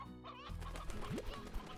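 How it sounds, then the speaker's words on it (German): Roosters on a Slime Rancher farm cluck and coo briefly and softly, with a few short bird calls bunched together over a faint game background. "Ich habe schon wieder zu viele Hähne hier drin."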